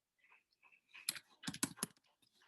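Quick tapping on a computer keyboard, close and fairly quiet, with a few sparse keystrokes at first and then a denser cluster of clicks, no voices.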